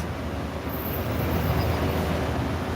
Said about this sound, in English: And here's another bus.